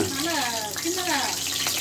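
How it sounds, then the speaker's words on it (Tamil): Onion uttapam batter sizzles in a hot pan, with water spattering into it as a steady hiss under a voice talking throughout. "என்ன மேடம் பொரியுதே ரொம்ப தண்ணி தண்ணி பட்டுருச்சு அதில்"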